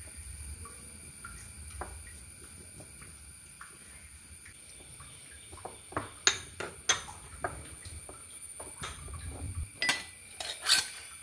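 Chakli dough of urad dal flour being mixed by hand with thick coconut milk in a bowl, heard as soft, irregular clinks and scrapes that build to sharper knocks against the bowl toward the end, close by with no talking.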